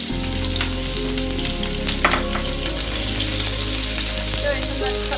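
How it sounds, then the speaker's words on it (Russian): Minced meat and chopped onion fry in a hot pan with a steady, dense sizzle and crackle throughout, close and loud, with faint stirring. "будем жарить"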